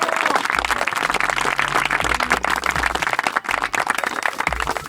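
An audience at a comedy television show applauds: dense, loud clapping runs steadily through the whole stretch, with a faint crowd murmur underneath.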